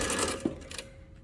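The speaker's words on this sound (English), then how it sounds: "we're just going to sew the next one right after it" Brief whirring run of a sewing machine chain piecing quilt pieces, a close mechanical stitching burst that quickly fades out.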